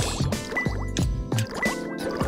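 Water rising and filling in Sonic Adventure 2 Battle, a run of liquid gurgles and drips layered under bouncy game music tones, moderately loud and close.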